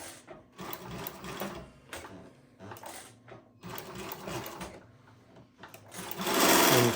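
A Global WF 1575 LH cylinder-arm walking foot sewing machine, extra heavy duty with needle feed, runs in steady mechanical bursts with brief pauses between, ending in a louder rush of noise.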